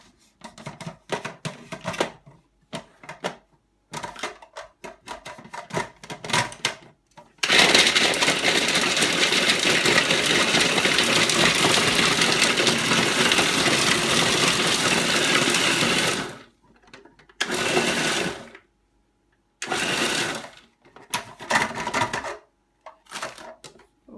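A kitchen machine chops several pieces of a big chocolate bar for a Black Forest gâteau, with short rattling bursts, then a loud sustained whir of about nine seconds, followed by a few more brief pulses.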